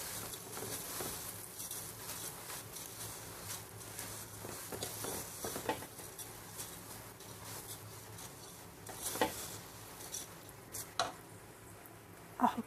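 Rice grains stirred into fried vermicelli in a hot pan, giving a continuous soft sizzle with scraping and patter from stirring, brief louder clatters near the end, no voices.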